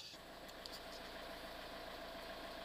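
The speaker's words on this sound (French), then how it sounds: "Voilà, moteur démarré, c'est un gasoil." A Peugeot diesel engine with an AM6 EAT6 automatic gearbox idles steadily after starting, a faint, even low hum with a slight rattle, and no talking.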